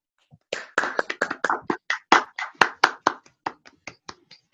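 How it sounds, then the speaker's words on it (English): Applause for award winners at a school assembly: a small number of hands clapping in a quick, uneven rhythm of distinct, close claps with clear gaps between them, trailing off toward the end. "Please give all award winners a round of applause."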